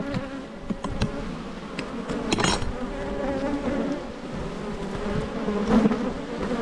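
Honey bees hum and buzz steadily at an open hive during an inspection, a dense close swarm drone with individual bees passing near, no talk.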